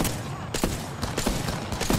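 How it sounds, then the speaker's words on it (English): A quick run of airstrike explosions in Apex Legends, several sharp bursts landing in uneven succession over two seconds, fairly loud and close within ongoing game noise. "He threw the airstrike."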